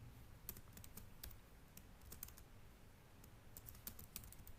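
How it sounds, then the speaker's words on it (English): Code is typed on a computer keyboard with quick irregular bursts of light, crisp key clicks, close and fairly quiet, over a faint background hum and with no talk. "I'll have to type again"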